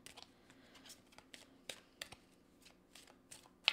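Moonology oracle cards being shuffled by hand, giving a string of soft, quick papery riffles and flicks at an irregular rhythm, faint and close with no talking.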